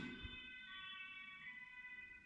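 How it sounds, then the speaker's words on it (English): A faint, steady ambulance siren wails in the distance, low and continuous, with no talking. "Hey, my first ambulance."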